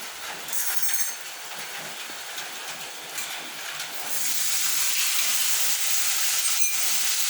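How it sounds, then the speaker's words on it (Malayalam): Liver goes into a hot pan for frying, and the background hiss swells into a loud, bright, sustained sizzle that holds steady, close up with a faint clink and no voices. "ഇനി നമുക്ക് ലിവർ ഇട്ട് കൊടുക്കാം"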